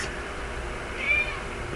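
A cat gives one brief, faint meow over a low background hum, with nothing else happening around it.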